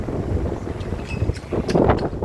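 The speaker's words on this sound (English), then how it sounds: "And it's windy as hell." Wind gusts buffet the microphone in rough, uneven rumbles, with a faint rustle in the background.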